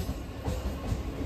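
A local train running on the Howrah to Digha line, a faint, steady rumble of wheels and carriage noise heard from inside, low and continuous with no voices.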